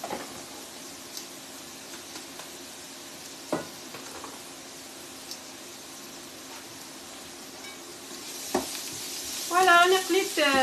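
Onions sizzling in a pan for tchektchouka, a soft steady frying hiss with occasional utensil taps, swelling louder near the end as a voice briefly speaks.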